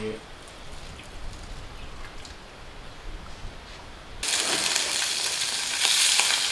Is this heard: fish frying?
yes